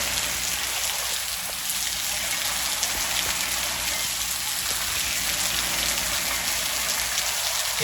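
Steady rain falls on a trucking route, making a dense, even hiss of drops on surfaces that continues without a break and has no talk over it.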